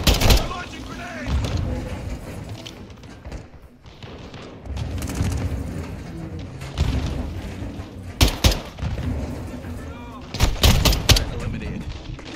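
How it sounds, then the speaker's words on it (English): Enemy grenade launches and gunfire in Call of Duty MW2, a heavy rumbling firefight with bursts of shots and sharp blasts near the end, soldiers' voices shouting throughout. "They're launching grenades!"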